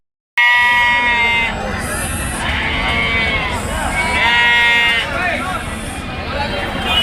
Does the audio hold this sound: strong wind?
no